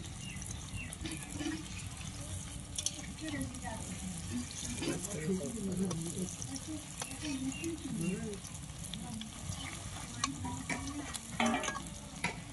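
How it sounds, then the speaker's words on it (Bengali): Jackfruit koftas fry in hot oil in a village kitchen, a steady crackling sizzle with scattered stirring and turning clatter throughout. "কোপ্তাগুলো এবার আমি এপিট উপিট বাদামি করে ভেজে নিয়েছি"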